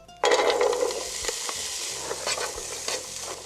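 Chopped onions sautéing in hot olive oil, a steady close sizzle that starts abruptly and carries on with occasional clinks and scrapes of stirring.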